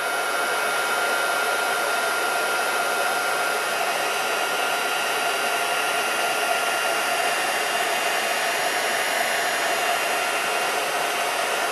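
A heat embossing tool blows steadily to melt embossing powder, a loud, continuous hair-dryer-like whoosh with a fan whine that holds level throughout, close and alone.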